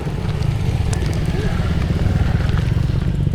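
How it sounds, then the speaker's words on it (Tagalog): Motorcycles passing on an unpaved road in a bike-friendly area of Malabon City, giving a continuous close engine rumble and rattle under someone talking. "Ayan, may mga motor din, maraming motor, tapos 4 wheels na dumadaan dito."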